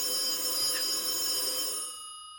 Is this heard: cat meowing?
no